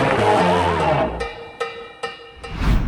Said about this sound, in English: What you're hearing is perhaps the most famous cowbell in rock history.